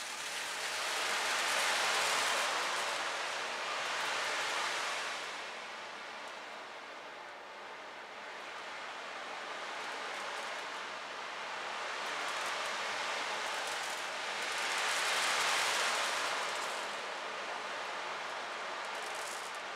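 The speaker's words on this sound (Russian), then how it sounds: "Этот инструмент так и называется Ocean Drum." Ocean drum with small balls rolling across its membrane, making a soft surf-like hiss that swells and recedes in slow waves like the sea, continuous and fairly close, with no voices.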